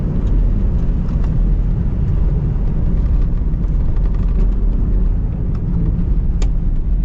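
A 2021 third-generation Ford F-150 Raptor driving off-road, a loud, continuous low engine and drivetrain rumble with road noise, steady and close throughout with no voices.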